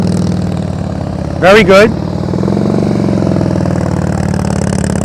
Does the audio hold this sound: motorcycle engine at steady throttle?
yes